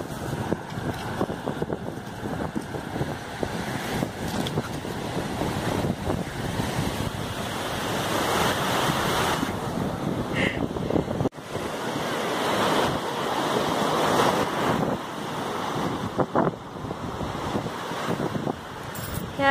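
Waves wash onto Jinha Beach in Ulsan, South Korea, with continuous surf rolling in and breaking nearby, heavy wind buffeting the microphone throughout.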